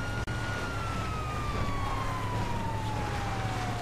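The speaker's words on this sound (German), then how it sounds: "Aber eins bringt die Sirene auf jeden Fall." A police car siren in the video game GTA V wails steadily with a slowly falling tone over a constant engine drone, loud and continuous without talk.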